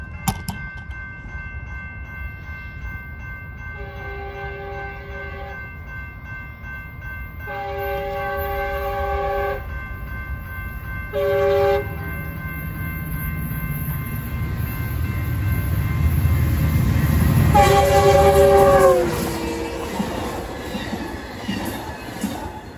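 An Amtrak P42DC diesel locomotive passes a railroad crossing, its multi-tone horn sounding in several long blasts while the rumble of the train builds and swells close by, then a final horn blast as it goes by.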